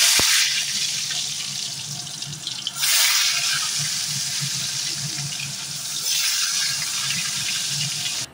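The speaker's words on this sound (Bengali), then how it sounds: "কড়াইতে তেল দিয়ে তার মধ্যে নুন হলুদ দিয়ে মাখানো আলুগুলো দিয়ে ভাজবো" Potatoes coated in salt and turmeric fry in a little oil in a wok, giving a steady, close sizzling hiss that swells slightly partway through.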